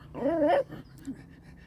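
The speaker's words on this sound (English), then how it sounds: "the dog wants to eat my food" Dog nearby gives a drawn-out pleading whimper followed by a brief softer whine, begging for food indoors, with faint panting and no talk.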